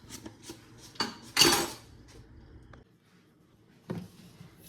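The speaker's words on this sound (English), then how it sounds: "I'm just going to take a whisk and whisk that together." Cornstarch mixture for homemade vanilla pudding being whisked in a bowl, heard as a few scattered metallic clinks and one brief louder scrape, close by with quiet gaps between and no speech.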